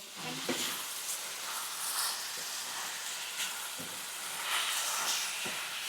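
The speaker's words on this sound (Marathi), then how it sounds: "आता आपल्याला गॅस फास्ट करायचा आहे आणि कांदा हा आपल्याला नरम करून घ्यायचा" Onions sautéing in a moderate amount of oil for onion chutney, a steady broadband sizzle running throughout with a few faint stirring scrapes, close and alone with no voices.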